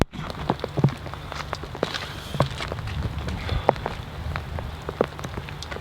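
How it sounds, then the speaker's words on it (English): Heavy rain pours down steadily outdoors, with a dense patter of drops and sharper close splashes scattered throughout. "It's actually pissing it down."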